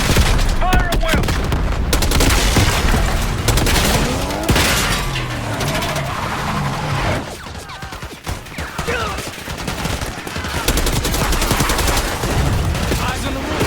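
Dense bursts of gunfire from a Black Ops 6 campaign mission assault on a palace gate, rapid automatic volleys and booms layered continuously throughout, with brief voices calling out beneath the shooting.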